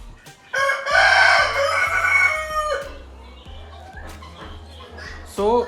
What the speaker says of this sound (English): so this is a male bantam chicken that I have.